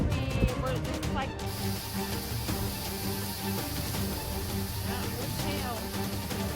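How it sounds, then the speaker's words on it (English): Hail falling during a windy severe thunderstorm in Indiana, a dense steady clatter and hiss on hard surfaces that runs throughout, with a voice talking over it. "it's hail."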